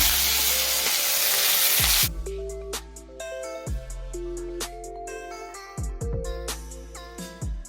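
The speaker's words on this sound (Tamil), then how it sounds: "கருவேப்பிலையும் கொஞ்சம் தாளிக்கணும்." A loud burst of hissing sizzle from curry leaves dropped into hot oil, cut off after two seconds by a tune with plucked notes.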